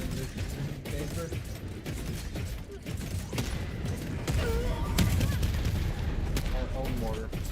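Helldivers 2 gameplay with repeated mortar and gunfire blasts in a chaotic battle, sharp booms and crackling shots popping throughout at moderate loudness, with mechanical clatter underneath.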